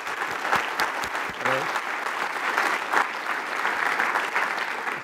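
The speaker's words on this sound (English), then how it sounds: "I think we should have a big applause for the Linux Foundation folks" Conference keynote audience applauding the Linux Foundation organizers, a dense sustained burst of clapping from a large crowd that holds steady for the whole stretch, with a brief murmur of voices near the start.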